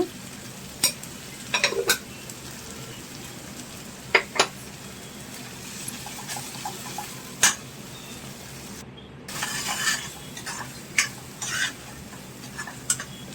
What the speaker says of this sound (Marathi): मसाला फ्राय करायला वेळ लागतो